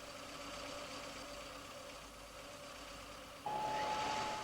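A stationary petrol car engine runs steadily in a science demonstration, with air forced in by a fan; a low continuous hum holds throughout, growing slightly louder near the end as a steady high tone joins it.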